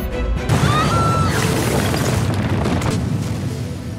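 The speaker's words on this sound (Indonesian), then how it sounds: "Raghu kemudian meledakkan kembali jembatan siling" A bridge blows up in a film scene: a deep, loud boom opens the blast, then a sustained rumbling roar with crashing debris carries on at full strength. No one speaks over it.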